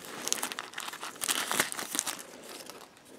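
Copper Google Home base packaging being peeled open, close and moderately loud, with crinkling and tearing of plastic or paper in short bursts throughout and no talking.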